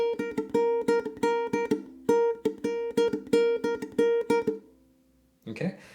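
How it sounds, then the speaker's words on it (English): Muted single notes on a ukulele are plucked in a quick, repeating rhythmic pattern, close and clear, then stop, followed by a brief voice near the end. "We're going to start with just playing one single note with the mute to learn that rhythmic pattern that we're about to play."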